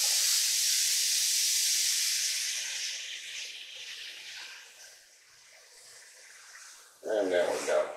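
Ground beef sizzles in a pan over medium-high heat, a loud, broad hiss that gradually fades and softens, with a voice speaking over it near the end.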